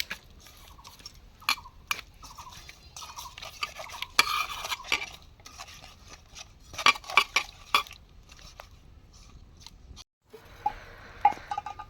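Hilsa fish pieces being hand-mixed with pure mustard oil in a bowl for steamed hilsa, with soft squelchy stirring and sporadic clinks of a metal bowl or utensil, close and fairly quiet with no talking.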